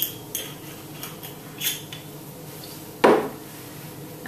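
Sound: spoon stirring raspberry cardamom chia pudding in a bowl

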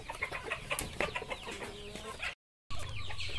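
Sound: chickens clucking

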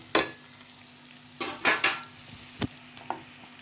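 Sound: stirring papaya sabji in a pan, adding coriander

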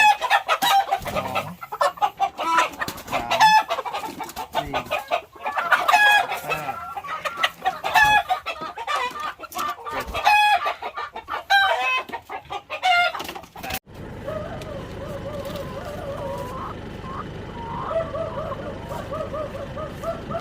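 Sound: young laying hens clucking

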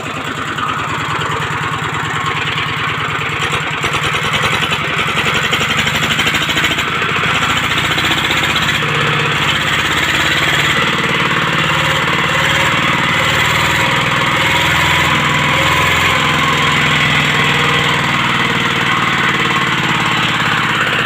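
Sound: ET direct-piston 14 horsepower engine running

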